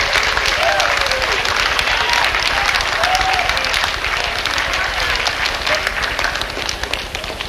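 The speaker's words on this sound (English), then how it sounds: "can you give them a round of applause, please?" A school assembly audience applauds to welcome new staff, a dense, steady roar of many hands clapping that holds at full strength for several seconds and only tapers slightly at the end.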